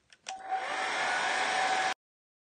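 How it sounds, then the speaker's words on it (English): A hair dryer switches on after a brief click and blows steadily with a strong whooshing hum, then cuts off abruptly, close and loud with no talking. "muting the horror of the hairdryer"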